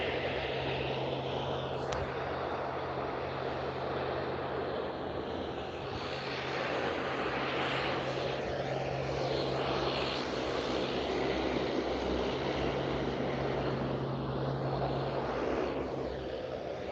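An aircraft engine rumbles at Vancouver International Airport, a steady broad roar with a low constant hum underneath, moderately distant and unchanging throughout, with no speech.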